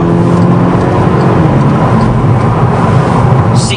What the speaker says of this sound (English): the sheer sound of the car when Rob's able to put his foot down